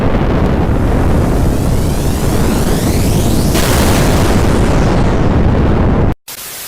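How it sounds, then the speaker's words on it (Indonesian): A rocket test explosion: a loud, sustained roaring blast with heavy rumbling fills the whole stretch, then cuts off abruptly near the end, followed by a brief quieter roar. "Pokoknya semuanya meledak."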